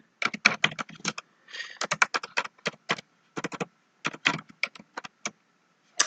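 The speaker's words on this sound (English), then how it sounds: "And I'll just type an example here." Computer keyboard typing, close and crisp: quick irregular bursts of key clicks separated by short pauses, with no voices.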